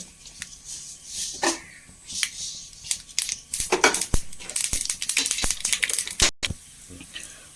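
A spoonful of mustard seeds spluttering in hot oil while tempering a curry: irregular sharp crackles and pops, close and fairly loud, bursting in uneven clusters over a soft sizzle.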